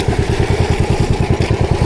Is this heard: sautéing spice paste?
no